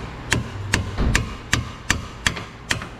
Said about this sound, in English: a little bit of pry bar up and some hammer tappy tap action